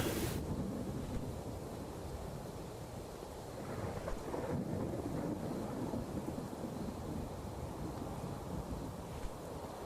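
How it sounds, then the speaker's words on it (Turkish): Thunder rolls through a rainy scene in the video game Thief Simulator 2, a loud, sustained rumble with a sharp crack at the start, over constant rain and wind noise. "Kulağımı deldi anasının gök gürültüsü."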